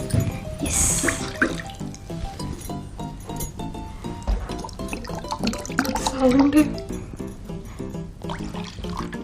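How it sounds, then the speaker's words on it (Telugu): Water poured from a cup into a pan, splashing and gurgling, with people talking over it. "3 cups వాటర్ పోయాలి."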